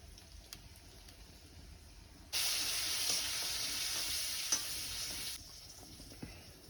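Mustard seeds, turmeric and chili fry in oil over a wood-fired stove, a sudden bright hiss bursting in and sizzling steadily for about three seconds before dropping away, faint crackles before and after.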